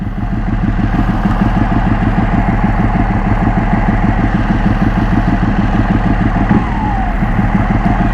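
A modified Ducati Panigale 1199 Tricolore motorcycle idles close by with a steady, throbbing, evenly pulsing engine note that stays loud and unbroken throughout.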